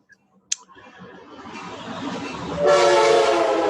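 A train passing, rising from a faint rumble to a loud, close, steady roar of rolling wagons with rhythmic clicking toward the end, preceded by a brief sharp click.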